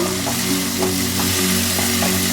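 Green chili fries in a pan for a Bengali mustard puti fish curry, a loud, continuous close sizzle with light stirring scrapes throughout.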